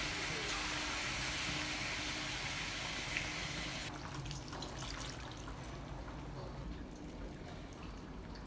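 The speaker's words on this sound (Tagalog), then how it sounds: "Nagay din ako dito ng kalahating tasa ng tubig." Half a cup of water poured into a cooking pot of squash simmering in coconut milk, a steady close splashing pour that thins out into quieter trickling.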